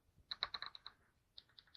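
Keys clatter on a compact mini wireless keyboard, one quick run of close, light taps, a pause, then a few more softer presses in a quiet room.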